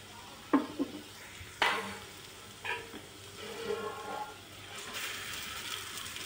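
Grated potatoes stirred with turmeric and garam masala in a hot pan, a soft sizzle broken by several sharp scraping knocks of the spoon against the pan.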